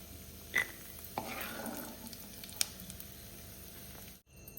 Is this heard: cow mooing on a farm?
no